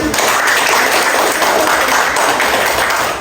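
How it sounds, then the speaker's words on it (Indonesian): Loud, dense applause from a group at a classroom presentation session, close and continuous clapping filling the whole stretch without pause. "Tepuk tangan"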